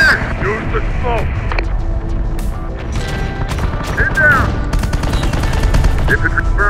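Battle gunfire in the strategy game Terminator: Dark Fate - Defiance, with scattered sharp shots and rattling bursts over a rumbling combat din, while radio-style voices talk throughout.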